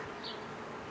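Honeybees buzz steadily around an open hive during swarm season preparations, a close, dense drone that lasts the whole short moment without speech.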